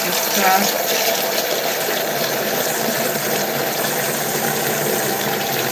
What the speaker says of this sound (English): just giving the cat some fresh water because she needs it